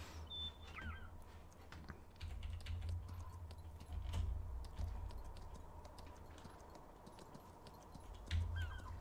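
A horse in Farming Simulator 19 clip-clops steadily while being ridden, with repeated hoof thuds in a loose rhythm over a constant low rumble, and occasional brief high chirps on top.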